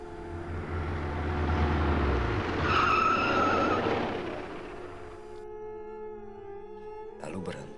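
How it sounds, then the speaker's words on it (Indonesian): A car brakes suddenly and its tires skid in a long, loud squealing howl that fades out, with a voice talking over it. "Kutekan tuas rem mendadak."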